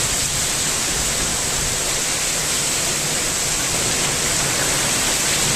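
A heavy downpour pours down in a steady, dense roar of rain, loud and unbroken from start to finish with no voices.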